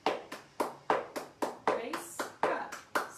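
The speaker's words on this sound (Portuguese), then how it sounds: "agora a gente vai fazer tudo isso com 2 palmas, 2 balls e 2 heels" Tap dance practice from a beginner lesson: a steady run of about ten sharp hand claps and tap shoe ball and heel strikes, evenly spaced and close, with no talk over them.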